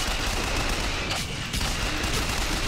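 Charged-shot gunfire in the first-person shooter Bioshock Infinite bursts in a dense, loud, continuous crackle with no talk.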